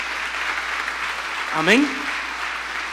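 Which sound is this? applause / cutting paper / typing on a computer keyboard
applause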